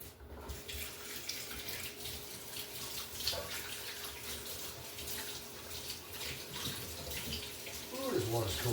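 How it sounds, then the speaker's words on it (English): A kitchen tap runs steadily into a sink while hands are washed, a close, continuous hiss of splashing water with small shifts in the flow, quieting near the end. "Let me wash my hands"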